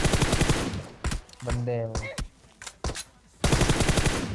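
Bursts of automatic gunfire in the mobile shooter PUBG Mobile rattle in rapid strings at the start and end, with scattered single shots between and a brief spoken remark mid-clip.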